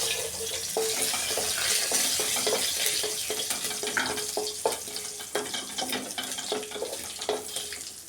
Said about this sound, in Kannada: ಸಾಸಿವೆ ಜೀರಿಗೆ ಚಟಾಪಟ ಅನ್ನಬೇಕು ನಮ್ಮ ಕರಿಬೇವೆಲ್ಲ ಕ್ರಿಸ್ಪಿ ಆಗಬೇಕು